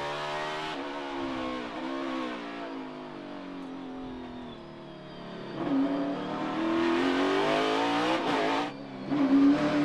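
Kyle Busch's NASCAR Cup Series race car heard from the onboard camera during the Toyota / Save Mart 350, its engine droning loudly and steadily, then rising in pitch as it revs up hard toward the end.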